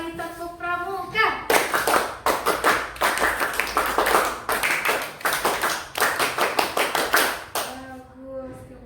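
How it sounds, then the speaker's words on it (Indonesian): Schoolchildren in a classroom perform a rhythmic scout clap pattern twice, with sharp, loud rapid claps in bursts over several seconds; an adult voice speaks briefly before and after. "2 kali tepuk pramuka."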